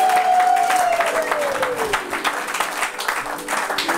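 A church congregation bursts into applause and cheering, a loud sustained wash of clapping with voices mixed in, a preacher speaking over it as it continues.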